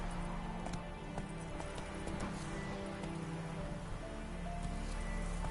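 Horse hooves clip-clopping in the video game The Witcher 3, a steady trotting patter set against a dense, constant wash of rain-like ambience and low rumble, with no talk.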